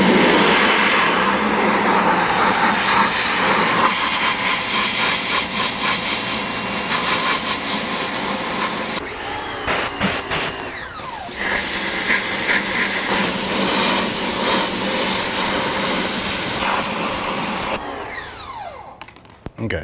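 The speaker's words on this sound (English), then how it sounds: "Let me get the pressure washer out here and try that." A pressure washer sprays a chrome wheel set on the ground outdoors, a loud continuous hiss and roar close by that briefly dips and shifts pitch midway before resuming, then cuts off near the end.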